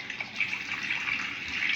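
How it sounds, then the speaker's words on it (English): Hot water runs from a bathroom tap onto a badger hair shaving brush, a steady, fairly quiet splashing stream with no speech. "Get it a little wet, some hot water."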